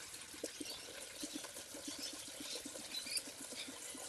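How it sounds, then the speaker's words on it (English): Coolant water bubbles and gurgles in the radiator of a Ford Laser / Mazda 323 during a cooling system flush, a quiet run of soft, irregular blips over faint background hiss. "You can hear it bubbling away there."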